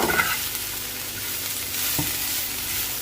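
Chicken spring roll filling seasoned with black pepper and salt is stirred in a pan, giving a steady rustling sizzle with a brief scrape knock near the middle and no speech.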